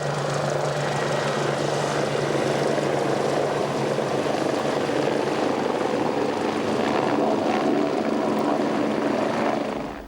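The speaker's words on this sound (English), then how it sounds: "a final flight in the rescue helicopter." A rescue helicopter flies in formation over Hobart as a farewell parade, its steady rotor and engine roar loud and continuous for the whole stretch, with no voices.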